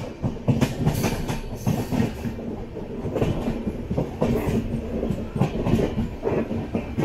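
Clickety-clack of the 20691 Antyodaya Express running on rails between Trichy and Nagercoil, heard from inside an unreserved second-class coach: steady rhythmic wheel beats over a continuous loud rumble, with no talk.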